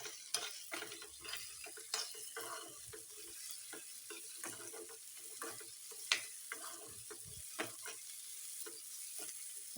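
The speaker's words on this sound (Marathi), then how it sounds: "आणि टोमॅटो छान परतून घेत आहे आणि आपल्याला टाकायचे तिखट हळद आणि धना पावडर टाकून करायचं" Tomatoes sauté in a pan with chilli powder, turmeric and coriander powder for a peanut chutney, giving a steady close sizzle broken by repeated scraping stirs and light clinks, with no talking.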